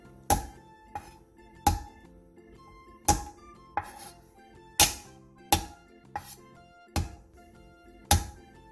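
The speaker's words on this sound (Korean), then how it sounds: "생강 1톨을 편썰고 통마늘 10개를 칼등으로 살짝 내리쳐 으깨주세요" A knife thumps on a cutting board, slicing ginger and crushing whole garlic cloves: about a dozen sharp, close chopping strikes spaced roughly every half second to second, with quiet pauses between and no talking.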